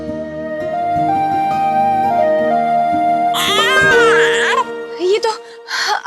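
An infant wails in a TV drama scene, the high wavering cry rising loud and sustained over music, then breaking into shorter sobbing bursts near the end.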